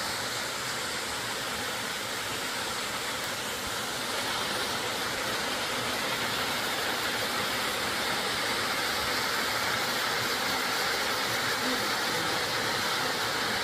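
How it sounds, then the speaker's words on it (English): A waterfall at Galvin's Gorge pours as a constant, broad rushing roar, steady and fairly loud throughout, with no talk. "Let's go zoom in on that waterfall."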